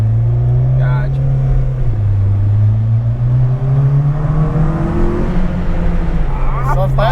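Modified exhaust on a 2011 Honda CR-Z drones loudly and steadily up close, its pitch rising gradually as the engine revs, with people talking over it.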